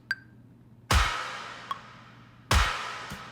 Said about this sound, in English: It's another snare with mad reverb.